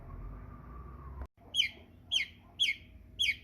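Three-week-old American Bresse chicks give four bright, high peeping chirps at an even pace, close and clear over a faint low room hum, after a soft rustle and a brief pause.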